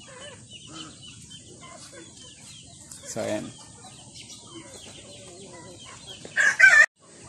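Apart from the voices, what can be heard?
native chickens clucking and crowing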